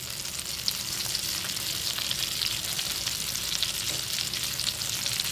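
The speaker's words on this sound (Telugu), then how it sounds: "ఈ పీస్ కూడా మనం ఆయిల్లో ఫ్రై చేసుకున్నాం" Chicken pieces frying in oil make a steady, dense sizzle with faint crackles throughout, close and even in loudness, with no talking.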